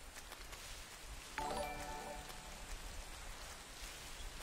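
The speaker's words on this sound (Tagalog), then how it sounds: "O umuulan. Ayaw mo nang umuulan." Continuous rain in the video game Metal Gear Solid 3: Snake Eater patters in a soft, even hiss, with a brief tonal chime-like sound rising out of it partway through.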